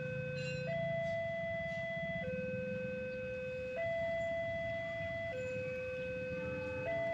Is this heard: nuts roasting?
no